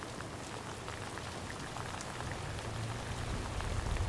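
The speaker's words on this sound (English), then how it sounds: "how hard and how fast the rain has been coming down" Heavy rain pours down steadily during a tornado warning in Maryland, a dense continuous hiss of drops on surfaces that grows slightly louder toward the end, with no voices.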